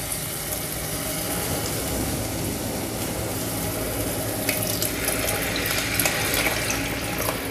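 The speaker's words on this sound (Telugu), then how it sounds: "ఇది బాగా కలిపేసిన తర్వాత చింతపండు రసం వేద్దాం." Tamarind water pours into a simmering egg curry, a steady, faint liquid rush and bubbling that continues without pause and without any voices.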